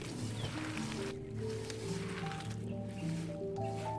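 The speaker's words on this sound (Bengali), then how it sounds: "দিয়ে ভালো করে মেখে দিব" Lentils and vegetables being mixed by hand with salt, turmeric and soybean oil for a vegetable dal, wet squishing and rustling in an uneven rhythm, close and fairly quiet.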